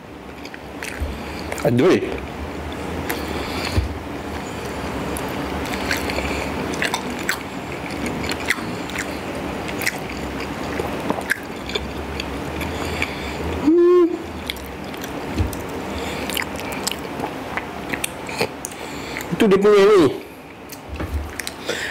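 Someone bites into and chews a tom yum pizza, with soft wet squishing and chewing sounds coming close to the mic in short bursts, while a person talks between bites.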